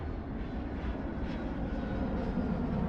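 Airplane taking off in the air-traffic control game Mini Airways, a steady broadband engine roar held evenly at moderate loudness throughout, with no speech.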